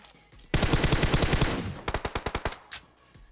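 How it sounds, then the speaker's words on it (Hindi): Rapid bursts of automatic gunfire in PUBG Mobile, a long continuous rattle followed by a string of separate quick shots, loud and close. "अब ये लोग आगे गोलियां दबा के चला रहे हैं"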